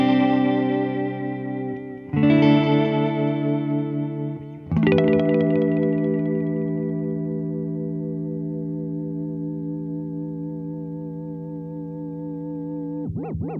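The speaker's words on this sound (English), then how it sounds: "Now we're in modulate mode, which actually adds a pitch-shifted signal, so it has a chorusy type effect on the delays." Electric guitar through a BOSS DD-7 delay pedal in modulate mode: sustained chords ring out with wobbling, chorus-like pitch-shifted repeats that swell and trail off; no talking.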